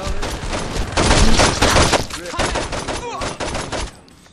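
Gunfire in Saints Row 2, loud dense volleys of shots overlapping with game voices talking, easing off near the end.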